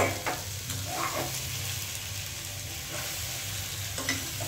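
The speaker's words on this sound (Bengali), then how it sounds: "এবার তরকারিটা বসিয়ে দেবো। তো এবার ভেজে রাখা ডিম," A vegetable curry of fried egg, potato and papaya is stirred in a pan, with a constant close sizzle under a few clinks and scrapes and no speech.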